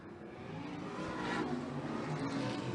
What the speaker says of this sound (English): Light those sprint cars up